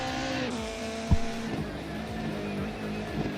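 A 1990s touring race car engine in the Assetto Corsa video game drones steadily at high revs at Goodwood, its pitch shifting with gear changes, loud and continuous with a brief thump midway.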